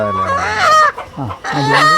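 Fancy-breed chickens on a poultry farm give loud, close, drawn-out squawking calls, several in quick succession with a brief dip between them.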